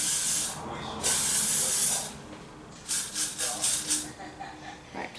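Hairspray bursts from an aerosol can during a makeup session, a loud one-second hiss followed by a cluster of shorter, uneven sprays close to the mic.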